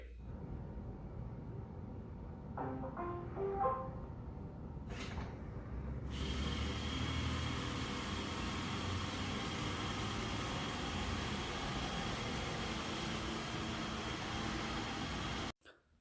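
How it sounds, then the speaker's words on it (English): An iRobot Roomba e5 robot vacuum starts up with a few beeps, then settles into a steady whirring hum as it cleans around the house, fairly close and without talk, before cutting off at the end. "the Roomba E5's off to the races and it's bouncing around my house"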